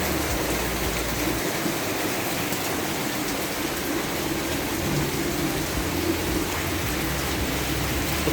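Rain on a winter day in Cyprus, a steady dense hiss of falling drops heard from a sheltered entrance, constant and moderately loud with no voices.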